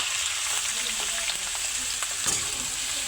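Ginger and garlic sizzle steadily in hot oil as the base for squid adobo, a continuous close frying hiss with light stirring clicks and no talking.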